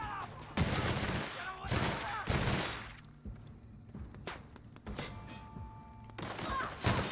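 Heavy gunfire in The Outer Worlds, several loud close bursts of rapid shots separated by gaps with scattered single thuds, set against game ambience.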